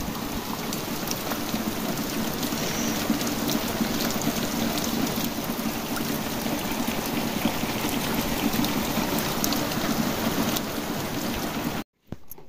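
Heavy rain falls in a dense, steady hiss with a constant patter close by, continuing without a break until a brief cut near the end.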